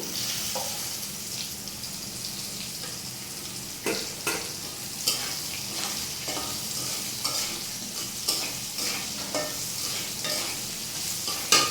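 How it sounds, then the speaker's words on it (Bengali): Pre-fried soya chunks stir in hot oil in a kadai, with a constant frying sizzle and repeated scraping strokes of a spatula against the metal, close and fairly loud. "এখানে কয়েকটা ভেজে রাখা সয়াবড়িও দিয়ে দিচ্ছি"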